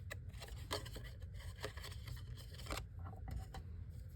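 Scissors snip a small piece of paper card for a tri-fold Christmas card in a quick series of close, crisp cuts with a faint rubbing of the paper between them.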